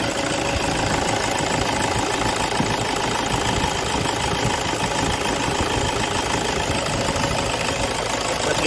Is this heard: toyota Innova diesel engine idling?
yes